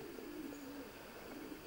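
Racing pigeons in a 32-foot loft give soft, low, rolling coos, faint and steady against a quiet hum of background noise.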